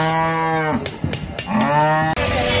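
Cattle at a Bangladeshi Qurbani cow market give two long, loud, close moos, deep and drawn out, each trailing into a lower groan, with brief knocks and market noise between them.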